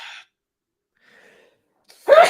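A single forceful sneeze bursts out near the end, loud and close, after a short breathy sound and a long stretch of near silence during a sports talk show.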